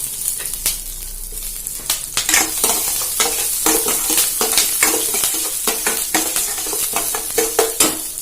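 Urad dal and green chillies sauté in hot oil for a manathakkali keerai curd pachadi, a bright continuous sizzle broken by frequent sharp scraping strokes of a spoon stirring against the pan.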